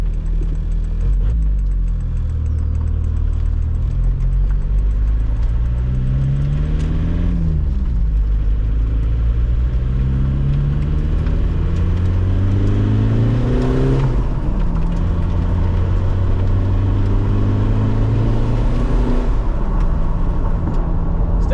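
A turbocharged TDI diesel car engine pulls hard through several gears, its loud drone rising in pitch repeatedly and dropping at each shift, heard from close inside the car without talk.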